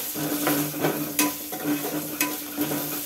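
Mango pulihora spices fried with salt and turmeric in a pan, a close, continuous sizzle broken by repeated scraping strokes of a spoon, with no one talking.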